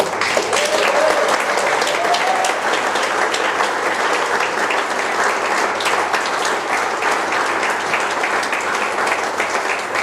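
An audience at a Brisbane folk history book launch gives a hearty round of applause as people come up on stage, a dense, sustained wash of clapping throughout with a brief voice or whistle-like tone near the start.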